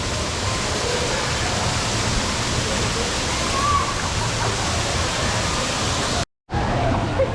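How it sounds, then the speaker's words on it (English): A waterfall at a lazy river gives a constant broadband rush of falling water, steady and fairly close, broken only by a brief dropout near the end. "And that's what the waterfall looks like."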